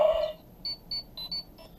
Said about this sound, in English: you get the classic communicator beep.